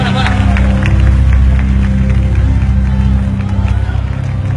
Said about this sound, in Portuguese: dê a Jesus mais uma linda salva de palmas, misturada com um grito de glória a Deus bem forte e bem alto